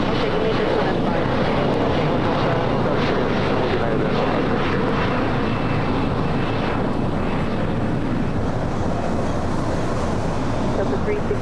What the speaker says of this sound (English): We'll be heading back to Doha on this A350-1000.